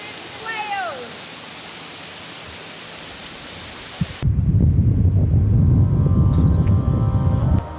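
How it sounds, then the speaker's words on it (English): An 80-foot waterfall in the Welsh countryside roars as a loud, steady broadband rush in the second half, heard from close behind the falling water, after a quieter stretch with faint bird chirps. "we're standing behind, I think it's about an 80-foot waterfall in the middle of nowhere"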